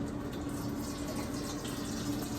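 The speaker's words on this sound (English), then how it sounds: "I'm going to take this maple syrup and I'm going to pour it through one of the pre-filters." Heated maple syrup is poured through a pre-filter, making a steady, continuous liquid rush and trickle that stays even and close for the whole stretch.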